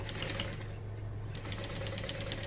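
Sewing machine stitching the end of a vintage barrel bag, a close, steady rapid mechanical whir with a brief slowdown in the middle.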